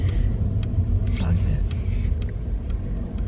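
A car rumbles along the road from inside the cabin, a steady low engine and road drone running throughout with faint murmuring over it.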